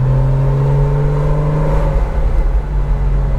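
A Porsche Boxster S (986) sports car engine drones steadily and loudly with a low rumbling tone and some wind noise, holding constant throughout.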